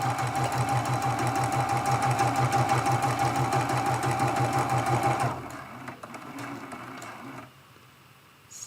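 Sewing machine stitching a quilt block seam for a Churn Dash ornament, a fast steady mechanical whirring rattle for about five seconds, then stopping, leaving quieter handling sounds and low hum.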